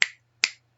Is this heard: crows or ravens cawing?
no